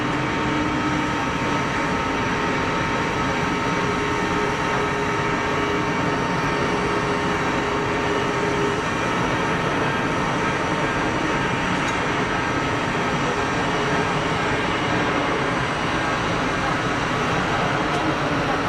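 An easyJet airliner takes off at Geneva Airport with a loud, steady jet roar that fills the whole stretch and stays constant from start to finish, with no talk.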